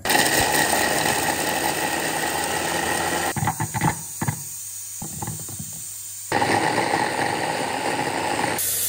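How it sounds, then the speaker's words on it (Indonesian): A blender grinding candlenuts whirs loudly, cuts out into a few rattling knocks and clatters, then roars back to full speed for a final burst. "yang pertama kita akan memblender kemiri"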